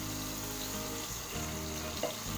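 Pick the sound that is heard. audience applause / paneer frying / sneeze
paneer frying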